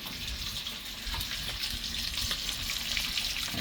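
Appalachian wild greens boiling in a pot, a continuous close bubbling and sizzling hiss with no talk, steady throughout.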